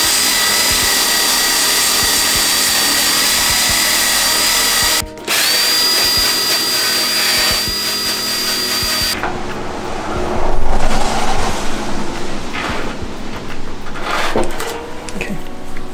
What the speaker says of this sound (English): we noticed some rust on the back of this, so we're just gonna quickly wire wheel it.